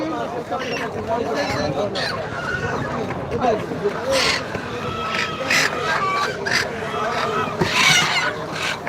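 Chickens clucking at a busy market in Saudi Arabia, fowl calls scattered through a crowded bed of overlapping voices as people talk nearby.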